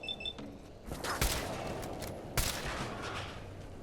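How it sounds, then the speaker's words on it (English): Gunfire in the video game Fallout 4, with two sharp, loud shots over a steady noisy game background, plus faint higher synthetic tones early on. "Hey, you stop shooting me."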